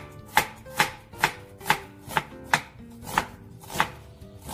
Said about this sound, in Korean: 양파를 이렇게 썰어야겠죠?